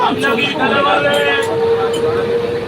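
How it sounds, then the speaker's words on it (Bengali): Busy railway station ambience with a rumbling train and a steady tonal hum, people talking nearby. "আমি স্টেশনে"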